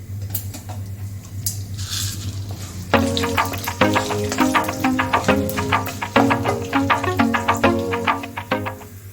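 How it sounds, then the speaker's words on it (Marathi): Chana dal and urad dal roast in coconut oil in a pan. Quiet at first, then a run of rhythmic, squeaky scraping strokes as the dal is stirred, close and fairly loud. "चण्या डाळी उडदा डाळी ते समा भाजून ताका"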